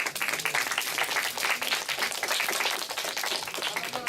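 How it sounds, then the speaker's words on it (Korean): An audience applauds at the close of a school reading debate contest at Goyang Songsan Middle School, with dense, steady clapping that holds throughout the moment. "우리 박수 한번."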